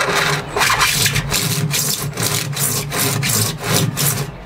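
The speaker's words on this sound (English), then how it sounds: "it'll definitely do for cutting plastic pipes" Hand saw cutting through plastic pipe, close and loud, with repeated rasping back-and-forth strokes in a fairly even rhythm for several seconds.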